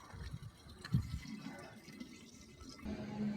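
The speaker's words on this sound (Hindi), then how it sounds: "मैं पहले पानी भर लेता हूँ" Water runs from a tap to fill a container inside a truck, a faint, steady pour with a few soft drips and splashes and a low filling tone rising near the end.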